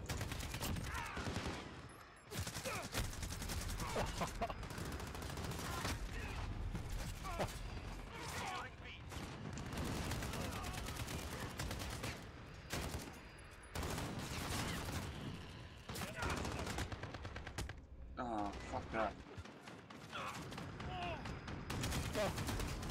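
Rapid gunfire from a Modern Warfare multiplayer match, with bursts of automatic shots and mechanical clatter repeating through the clip, loud and dense, with a player talking over it at times.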